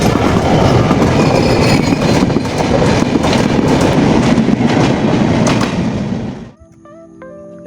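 A train passes close by near Daulatpur railway station, its loud rumble and rhythmic wheel clatter running steadily before dropping away abruptly, leaving quieter background sounds.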